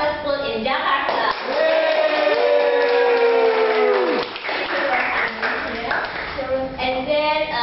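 Crowd applause and clapping for a guest at a panel discussion on Indonesia's national exam, loud and sustained, with a drawn-out tonal sound sweeping across the middle of the cheering.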